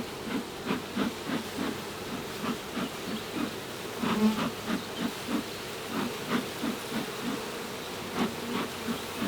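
Honeybees at an opened hive in a growing apiary buzz in a dense, steady drone with pulsing swells, fairly close and continuous, over faint background hiss.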